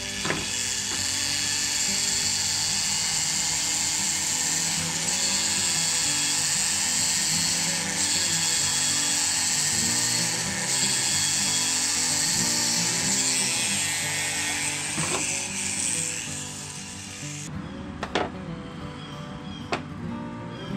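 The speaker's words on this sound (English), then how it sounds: "And I'm just gonna drill some little holes here." A small power drill whirs continuously for long stretches drilling small holes in a wood carving, then stops; afterward a few sharp taps and clicks follow close by.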